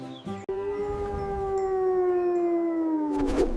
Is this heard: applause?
no